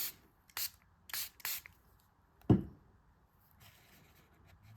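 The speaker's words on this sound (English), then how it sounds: "And I'm going to spray the top of this." Several short hissing bursts from a spray bottle, close and fairly soft, followed by a dull thump and quiet rustling.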